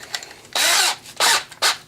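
Power drill spinning a cylinder hone during a Suzuki Vinson 500 ATV engine rebuild, heard as three bursts of loud whirring and grinding, each under a second, separated by short pauses.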